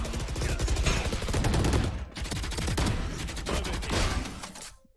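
Gunfire in a video game, reportedly from a pistol: a dense, rapid volley of loud, close shots that runs almost without pause, dips briefly midway and then resumes before cutting off.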